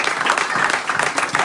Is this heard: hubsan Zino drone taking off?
no